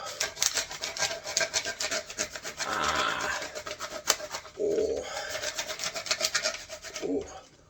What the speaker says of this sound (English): Hold it with my hand like this, and do more rubbing art with these crayons.